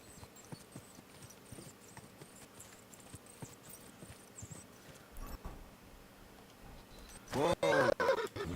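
Steady hoofbeats clop along in an even rhythm over a low background hum in Kingdom Come: Deliverance II, then a louder burst of noise near the end.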